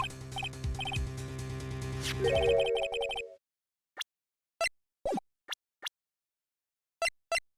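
Phone ringtone in the Phoenix Wright: Ace Attorney video game, a bright melodic electronic ring that stops abruptly, followed by a few short sharp plopping blips.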